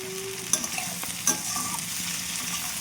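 Chili and food frying in a pan while being stirred, a steady close sizzle broken by a couple of sharp scrapes of the spoon against the pan, with no talking.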